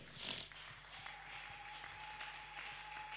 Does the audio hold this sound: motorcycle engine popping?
no